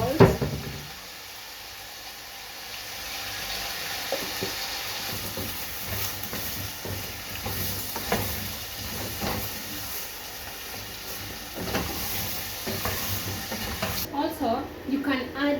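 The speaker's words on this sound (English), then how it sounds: "I just fried them the normal way you would fry your waru or your pumpkin." Pumpkin frying in a pan gives a steady soft sizzle and hiss, close and moderate in volume, with occasional stirring scrapes and someone talking over it.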